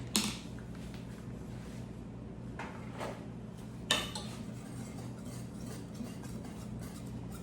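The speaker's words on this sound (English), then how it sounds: "I'm stirring them around. Stir them around real good." Strawberries for a glazed pie are stirred in a bowl, with a few faint clinks and scrapes of a spoon over a low steady hum, one sharper knock midway.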